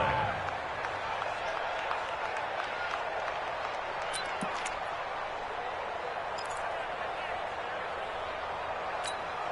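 Steady roar of a stadium crowd in an American football video game during an Eagles–Cowboys matchup, a dense continuous wash of cheering and murmur with occasional faint claps, while a commentator's voice runs over it.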